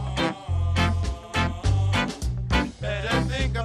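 A burst of upbeat ska music, choppy offbeat guitar stabs over bass and drums with a horn line, lively and brief.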